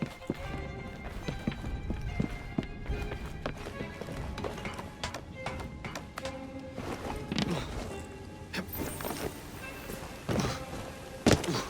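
Horse hooves clip-clopping on a cobbled street in Assassin's Creed Syndicate, irregular close thuds mixed with carriage rattles and game sounds, with a louder clatter near the end.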